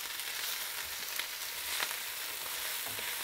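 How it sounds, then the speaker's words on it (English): Arugula leaves sauteing with almonds and garlic in a pan give a steady, close sizzle of frying, with faint stirring scrapes and no talking. "going to saute this just until the leaves wilt"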